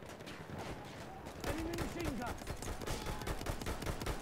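Dense, rapid gunfire and explosive crackle in the World War I shooter Battlefield 1, sustained battlefield shooting that grows louder midway, with someone talking over it.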